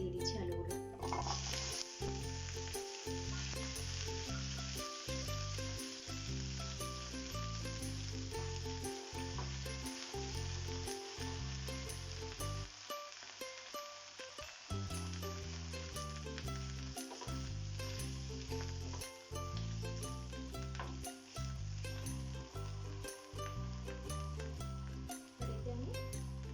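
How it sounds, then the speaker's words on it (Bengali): Potato pieces sizzle and crackle steadily in hot oil for a soyabean chunk curry, a loud continuous fry with rhythmic low thumps running underneath, briefly dipping near the middle before resuming. "তেল আমার গরম হয়ে গেছে, আমি এতেই দিয়ে দিচ্ছি আলুগুলো।"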